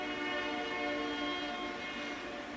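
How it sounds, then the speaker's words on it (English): A train passes close by with its horn sounding, a steady loud rumble and sustained tonal blare filling the whole stretch with no talking over it. "Oh, here comes a train."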